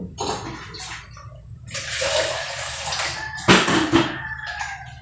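Alugbati leaves being rinsed under running water during home cooking, with splashing and gushing in irregular bursts and a louder sputter near the end, alone without talk.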